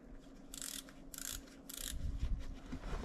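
A Team Wendy helmet strap is fastened, giving three short, bright ratcheting clicks in quick succession, close and crisp in a quiet room, followed by soft rustling handling.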